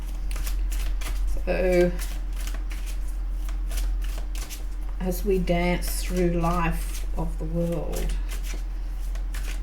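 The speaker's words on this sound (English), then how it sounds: "You just shuffle until it feels right" Tarot cards riffle and slide in a steady run of quick crisp shuffles, close and fairly loud, continuing under a woman's calm speech throughout.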